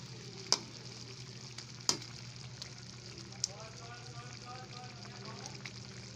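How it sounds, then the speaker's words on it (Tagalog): Fried potatoes go into a pan of pork adobo, which keeps up a soft, steady simmering sizzle with a few sharp clinks of utensils against the pan, while a voice talks quietly underneath. "Ilagay na natin ang patatas. Na yung patatas na pinirito natin kanina"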